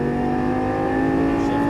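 Lamborghini Gallardo LP550-2 engine pulling under acceleration, a loud, steady harmonic drone heard from inside the car that rises slightly in pitch over a couple of seconds.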